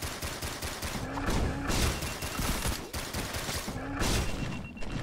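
Distant enemy gunfire from the pixel roguelike Risk of Rain Returns crackles in a dense, continuous barrage of rapid shots and thumps, steady and loud throughout with no talking.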